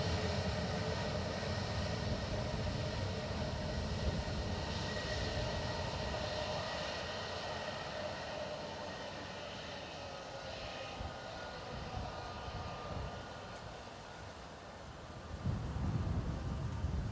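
A British Airways jet in from Heathrow rumbles at Dublin Airport, a broad, steady engine roar held for many seconds at moderate distance, swelling slightly again near the end.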